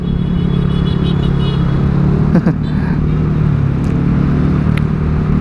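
Heavy, congested road traffic near Ciputra World in Jakarta gives a continuous loud rumble of car and motorcycle engines, with brief rattles and passing vehicle sounds close by.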